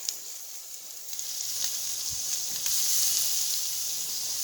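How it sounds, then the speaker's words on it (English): Wagyu picanha steaks sear on an Akorn kamado grill, giving a steady, close hiss of sizzling fat that builds slightly and holds with faint crackles and no talk. "You hear that sizzle, don't you? That's getting that sear on that meat"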